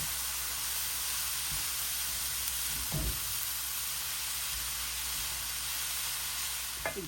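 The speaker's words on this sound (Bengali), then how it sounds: "এক টেবিল চামচ ঘি দিয়ে নিয়েছি দিয়ে আমি এখন পেঁয়াজ পেঁয়াজগুলি দিয়ে দিচ্ছি" Onions frying in a spoonful of ghee in a pan for a raw papaya semai zarda: a steady, close sizzling hiss throughout, with a couple of soft knocks near the middle and no talking.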